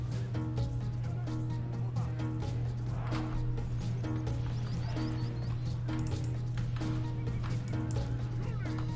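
Horse archers charging in a Byzantine campaign strategy game, with steady rapid clip-clop of many hooves and occasional neighs over a continuous low hum and background music, fairly quiet.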